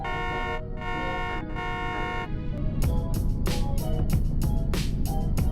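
A car horn in the driving game Realistic Car Driving sounds loud and close. Two long blasts with short gaps between them are followed by a quick string of about eight short, evenly spaced honks.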